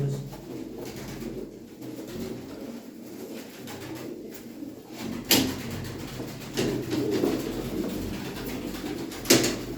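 Steady low cooing from pigeons fills the whole stretch, soft and continuous, with a couple of brief sharp knocks.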